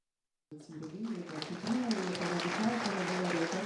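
Crowd applause greeting an Invictus Games winner on his return to his hometown of Kamianets-Podilskyi, starting abruptly after a moment of silence and building into steady, dense clapping with voices mixed in.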